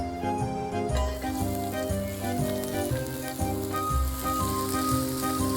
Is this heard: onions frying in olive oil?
yes